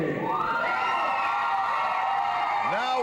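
A wrestling crowd at a heavyweight title tournament final roars and cheers steadily during the ring introductions, loud and continuous, with a whoop rising near the end.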